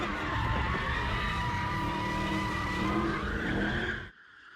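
Dodge Charger Hellcat and Challenger Hellcat cars on a thrill-ride course, tires screeching loudly and continuously as they skid through corners under a roaring engine, cutting off abruptly near the end.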